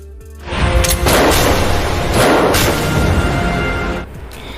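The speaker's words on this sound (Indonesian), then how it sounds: "Sohee yang dari masa depannya lagi lah yang akan menembak Sigma" Gunshots ring out during a climactic scene in the Korean TV drama Sisyphus: The Myth, two loud, broad blasts about a second apart over a sustained rumbling score, with no talking.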